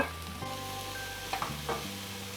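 Onion and bell peppers, red, green and yellow, stir-frying in a pan with a steady sizzle, a few louder scrapes and clacks of the spatula over the hiss and a held hum underneath.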